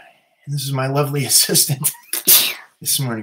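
A single abrupt sneeze bursts out nearby in the middle of a man's ongoing speech.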